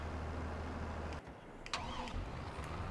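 Tractor engine in Farming Simulator 22 running steadily with a low rumbling drone, briefly dipping, then resuming alongside a few short mechanical clicks and whirs, close and steady.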